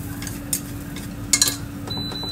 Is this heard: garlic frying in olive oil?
yes